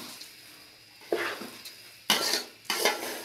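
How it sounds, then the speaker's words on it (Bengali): Rice for chicken biryani is fried and stirred in a pan, with three distinct bursts of scraping and clattering spatula strokes over a faint sizzle, each stroke close and fairly loud. "চালটা দিয়ে ভালো করে 5 মিনিট ভেজে নেব।"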